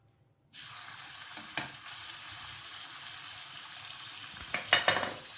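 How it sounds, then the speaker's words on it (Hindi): Steady crackling sizzle of garlic-ginger paste frying in hot oil, starting abruptly and continuing close up, with a few louder spatters and stirring scrapes near the end. "अब इसमें डाल देंगे लहसुन अदरक का पेस्ट।"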